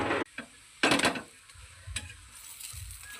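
Two chapatis heating in plenty of oil on a very hot pan, giving off bursts of crackling sizzle that flare loudly, then settle into a softer frying hiss with occasional scraping.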